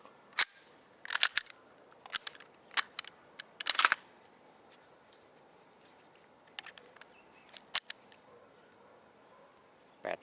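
Slide of a Glock pistol being racked by hand, a series of sharp metallic clacks and clicks in quick clusters, close and crisp, with quiet gaps between bursts and no talk.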